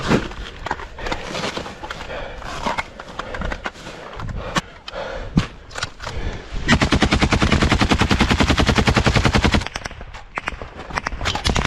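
Automatic rifles fire during a combat engagement, with scattered close shots at first, then a long sustained rapid burst, and more sporadic rounds afterwards.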